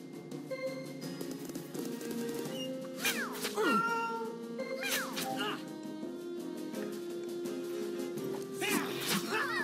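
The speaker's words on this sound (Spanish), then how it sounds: "Ahí viene el resto de miau miaus." Miau Miau cat monsters meow in the Wakfu video game, several short, sharp cat cries scattered over game music while someone talks throughout.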